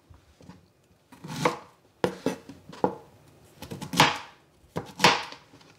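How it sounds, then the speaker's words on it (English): A knife cuts Thai eggplant on a board in a series of distinct chops and slices, some quick pairs and some single strokes, close and crisp with quiet gaps between. "Now cutting my eggplant."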